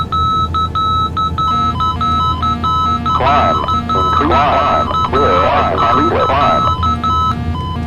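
Cockpit warning alarm in Microsoft Flight Simulator X beeps repeatedly in a steady rhythmic pattern of high electronic tones, loud and close, while someone talks over the middle part.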